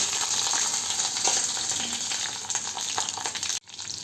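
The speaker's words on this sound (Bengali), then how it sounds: "আমি এইগুলো বেগুনগুলো আস্তে আস্তে ভেজে নেব আপ অল্প অল্প করে ভাজতে দিচ্ছি" Eggplant pieces fry in hot oil, a loud continuous crackling sizzle close by with scattered spits and pops, no voices, briefly dipping near the end before the hiss resumes.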